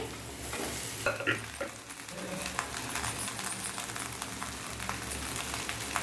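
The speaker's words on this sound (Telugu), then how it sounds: "ఇలా అన్నం వేసుకొని మిక్స్ చేసుకోవాలి." Cooked rice is stirred into a sizzling carrot mixture with garam masala in a pan, with scraping spoon strokes and a light steady frying crackle close by.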